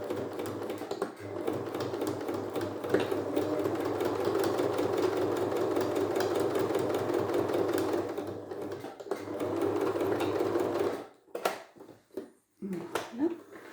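A sewing machine stitches a seam on a fabric protective mask, running in a fast, even whir with rapid needle ticks for several seconds, then stopping in short bursts near the end as someone speaks quietly.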